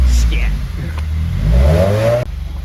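A Subaru WRX with an FA20DIT engine idles loudly up close, then rises in a short rev before cutting off abruptly near the end.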